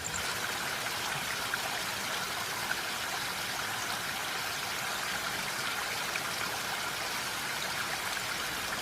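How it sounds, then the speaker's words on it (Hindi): Heavy rain in an animated children's story, a steady dense hiss of falling water without pause or voices. "एक दिन बहुत तेज़ बारिश हो रही थी।"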